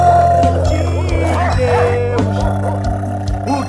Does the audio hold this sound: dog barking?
yes